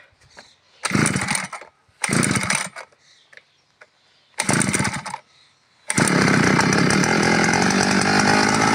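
A cold petrol brush cutter, partly disassembled and with its choke switch up, sputters in three short bursts on separate pulls, then catches and runs loud and steady at close range.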